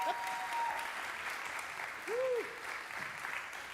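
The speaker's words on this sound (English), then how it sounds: "Another round of applause for these incredible," A crowd at an authors' reading panel applauds steadily throughout, while a voice talks briefly over the clapping.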